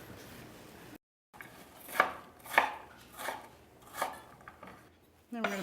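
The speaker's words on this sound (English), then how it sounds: "I'm going to chop up some onions" A knife chops onions on a board in a home kitchen, five or six distinct, evenly spaced thuds after a brief pause, close and clear with faint background noise.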